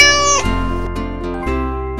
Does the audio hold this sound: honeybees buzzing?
no